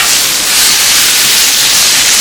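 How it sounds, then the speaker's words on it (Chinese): Bitter melon frying in a hot wok with garlic and chili, giving a loud, steady, close sizzle and hiss that runs unbroken throughout, with no voices. "苦瓜下锅"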